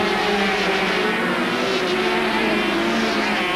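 250cc racing motorcycles run in a 1989 Shell Oil Super Cup race at Mallory Park, producing a loud, sustained, high-revving engine roar that stays dense and unbroken throughout.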